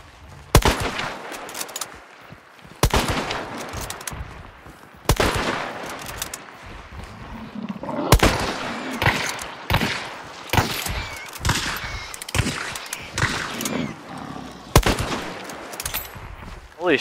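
Loud, sharp gunshots ring out in the video game Hunt: Showdown, around eight or nine separate cracks spaced irregularly a second or few apart, each with a short echoing tail.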